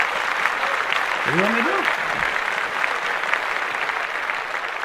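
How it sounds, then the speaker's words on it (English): Steady applause sound effect played on a sports podcast, a continuous bed of clapping running the whole length while someone talks over it. "Did that even deserve a clap? Anytime somebody gets work, they deserve a clap."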